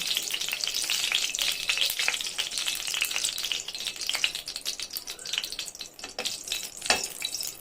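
Ghee sizzles and crackles steadily in a hot pan on a gas stove, a continuous close frying hiss with small pops throughout, no voices.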